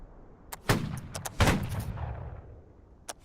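A volley of gunfire in a video game, two loud close musket-like shots a moment apart with echoing tails, followed by a fainter distant shot.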